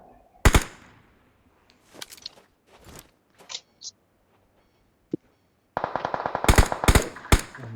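Video game gunfire in PUBG: a sharp burst early on, a few scattered single shots in the middle, then a dense, loud run of rapid automatic fire near the end, with quiet gaps between.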